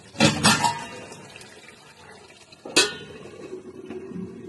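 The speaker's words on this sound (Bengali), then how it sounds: "এবার আমি ঢাকাটা দিয়ে দেবো।" Lid placed on a cooking pot of mango masala chicken in a home kitchen, two sharp metallic clanks followed by another clatter, with soft sizzling and bubbling underneath.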